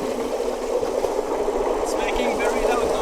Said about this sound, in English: Oh, it's this boat.